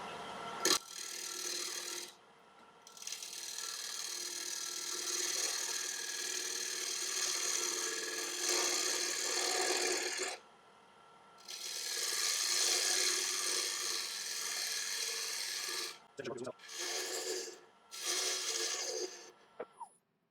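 A wood lathe spinning at just over 1000 RPM flattens the face of a small burl, with long sustained rasping cuts of the tool against the wood, close and steady, broken by several short pauses.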